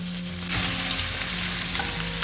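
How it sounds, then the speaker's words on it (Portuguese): Pancetta frying with butter in a pan, its sizzle jumping to a loud, dense hiss about halfway through as the fat hits the hot pan, with a continuous crackle after and no talking. "a pancetta já começou a soltar um pouquinho de óleo, de gordura, né? Agora eu vou colocar a manteiga."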